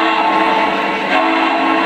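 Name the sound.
Lionel Legacy model train horn honking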